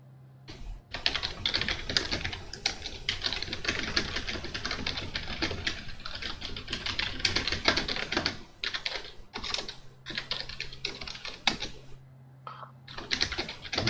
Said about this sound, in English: That is some very fast typing.